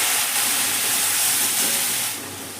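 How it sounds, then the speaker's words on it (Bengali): Water poured onto frying ground-spice masala sets off a loud, close, rushing hiss of steam that holds steady, then eases off slightly near the end. "মশলাটার মধ্যে আমি একটু জল দিয়ে দেবো যাতে তলায় লেগে না যায়"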